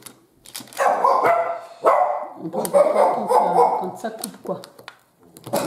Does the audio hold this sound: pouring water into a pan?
no